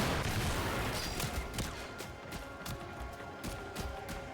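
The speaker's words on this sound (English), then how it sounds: "I'm being shot from up here" Gunfire raining down on the player in Warframe, with dense, continuous rattling impacts and bursts over a loud, noisy mix of game action, no talking.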